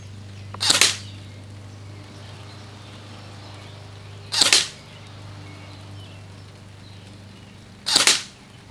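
An Umarex AER16 rifle fires three separate sharp cracks at a target, spaced about three and a half seconds apart, each loud and short against a quiet low hum.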